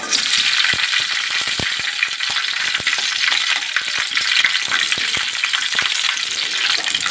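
Green chillies frying in a spoonful of oil, giving a loud, continuous sizzle with dense crackling pops throughout and no voices.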